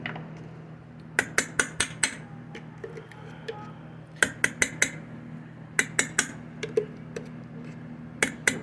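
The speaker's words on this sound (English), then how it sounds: "Let's go ahead and get these eggs scrambled here, nice and scrambled." Eggs and a dash of mayonnaise are scrambled in a bowl, producing quick clusters of sharp, bright utensil clicks against the bowl in rhythmic bursts over a low steady hum.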